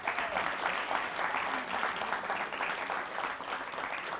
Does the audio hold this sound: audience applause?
yes